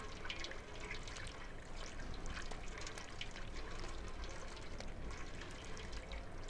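A cat wading through shallow water in the video game Stray, with steady splashing and trickling close by that runs unbroken from start to end.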